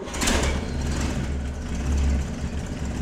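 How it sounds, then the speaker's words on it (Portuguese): A cold Chevrolet C10/C14 engine fired up: a near, loud low rumble that swells at the start and settles into a rough steady idle, with a brief surge partway through. "Eu vou pedir pro Milton dar uma partida."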